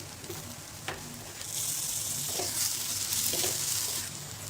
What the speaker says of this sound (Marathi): शिमला मिरची आणि हे मटार, फ्रोझन मटार आहे, मिक्स करून घ्यायचे. अजून थोडं बटर वापरायचे.